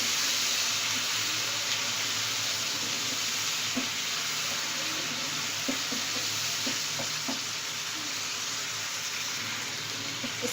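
Ginger garlic paste fries in a pan with a steady, dense sizzle and occasional soft clicks of stirring, continuous and close with no voices.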